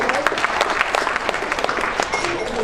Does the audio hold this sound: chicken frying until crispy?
no